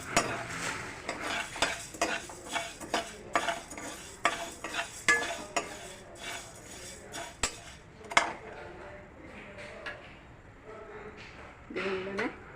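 Coriander seeds are dry-roasted for garam masala in a pan, with repeated scraping and clinking of a spatula against metal in an irregular rhythm, soft rattling between strokes and a faint voice in the background.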